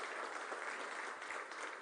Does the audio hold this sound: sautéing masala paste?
no